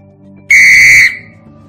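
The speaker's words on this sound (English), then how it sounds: "Blowing of a whistle" A whistle gives one short, loud, shrill blast lasting about half a second, sharp and alone against a quiet background.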